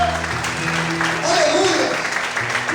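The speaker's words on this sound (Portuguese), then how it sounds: "Você pode aplaudir ao Senhor por isso." Brief steady applause from a church congregation during a Portuguese-language sermon, with a low musical drone continuing beneath the clapping.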